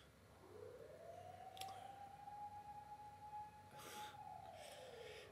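A single faint siren wail from an emergency vehicle at a fire and ambulance station a block away, rising, holding steady and falling over a low nighttime hum.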